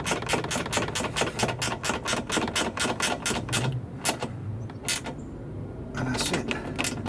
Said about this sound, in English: So make sure I'm going clockwise. Let's get the wrench going.